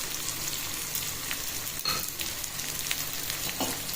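Onions sautéing with salt in a pan for a spicy green chilli kuzhambu, giving a steady close sizzle with soft crackles and a brief louder burst midway, with no talking.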